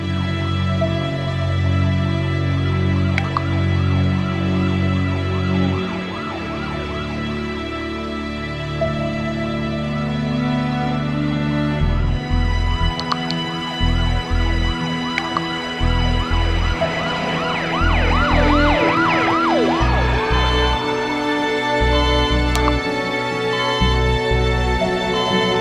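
A loud ambulance siren wails continuously in rising and falling sweeps over a heavy low rumble on a road, filling the whole stretch without speech.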